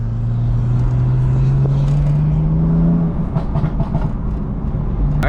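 A BMW M4 engine revs up with a rising drone, then settles into a rougher rumble close by, with no talking.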